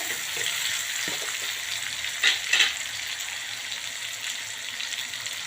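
Chopped onions and tomatoes fry in a pan for an ivy gourd (gilodi) curry, a steady close sizzle with a couple of brief utensil scrapes in the middle.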